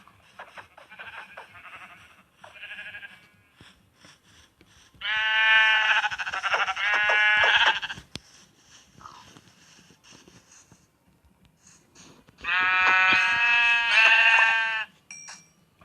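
Sheep bleating in the game Minecraft: a few short bleats, then two long, loud, wavering bleats with quiet gaps between them. No one speaks.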